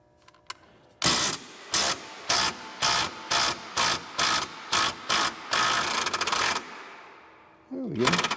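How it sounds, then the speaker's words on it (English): Ratchet wrench working the bottom shock bolt loose on a Can-Am RC Turbo R during a spring swap, a run of about ten loud, evenly spaced ratcheting bursts up close followed by a longer continuous spin, with no talk. "Okay, so let's see if we can get this bottom bolt out."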